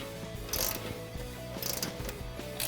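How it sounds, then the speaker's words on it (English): A 15 mm ratcheting wrench tightens strut nuts on a 2007-2018 Silverado or Sierra 1500 during a leveling lift kit install. Rapid metallic pawl clicks run close and loud, with two bursts of sharper clatter as the handle swings. "So I'm going to take my 15 millimeter ratcheting wrench."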